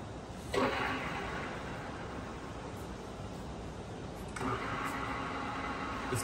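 A Correa F2UE universal milling machine spindle running at increased speed, 630 RPM, giving a steady mechanical whir and hum that steps up in intensity partway through, with no talk.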